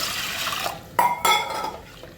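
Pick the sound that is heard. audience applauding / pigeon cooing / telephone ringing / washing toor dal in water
washing toor dal in water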